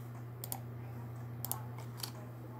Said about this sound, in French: appuyer sur la touche F5 du clavier